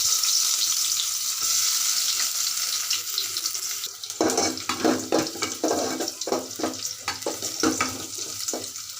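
Onion goes into hot oil for a tilapia and ridge gourd curry, a bright steady sizzle that turns into crackling, spattering bursts as the pieces hit the oil and get stirred, close and loud without talk.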